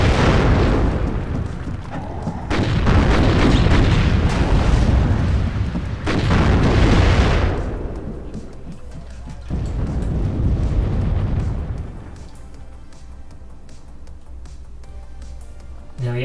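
Tank gun shots and heavy explosions from the video game WARNO boom in several loud bursts, each rolling off into rumbling decay, with quieter battlefield noise between.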